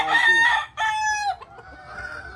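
Rooster from a Gilmore cross and golden boy broodcock line crows loudly with harmonic bursts, pauses, and crows again, then lower clucking continues close by with no talk.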